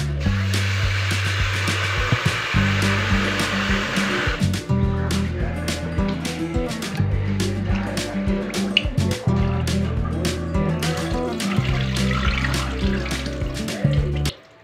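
Soaked idli rice is washed by hand in water, with sloshing, splashing and dripping over a steady background hum, close and continuous, and no one speaking.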